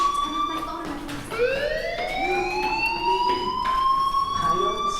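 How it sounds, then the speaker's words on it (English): A school fire alarm in the Life is Strange game, a loud rising electronic siren that sweeps upward and holds a steady wail, with muffled voices underneath. "do you hear that fire alarm?"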